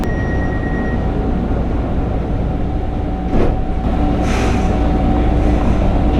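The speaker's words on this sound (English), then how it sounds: "Transit is departing." An airport terminal transit train at Heathrow pulls away, giving a loud steady rumble with a rising whine and a brief burst of hiss partway through. Nobody speaks.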